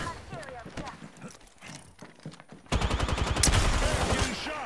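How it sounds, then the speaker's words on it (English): Fortnite gunfire bursts in as rapid, loud repeated shots in the second half of the clip, following quieter game sounds, with a player talking over it throughout. "I'm getting shot at."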